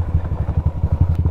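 A motorcycle rides along a rough, narrow rural road through coconut country in Batangas. Its engine chugs steadily and close, with regular bumps and clatter over the uneven surface and no talk.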